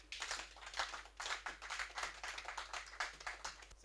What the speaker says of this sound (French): Applaudissons la parole de Dieu.